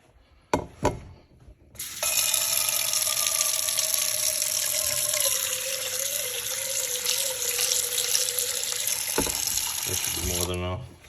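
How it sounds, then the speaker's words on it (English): Water pours steadily for about eight seconds into a pot of crushed autumn olive (Elaeagnus umbellata) leaves, about one cup for tea, with a rising tone as it fills. A few handling clicks come before and a brief clatter after. "And now let's put a little water in this,"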